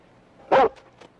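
A dog gives one short, sharp bark, close and moderately loud, followed by faint trailing yips in an otherwise quiet room.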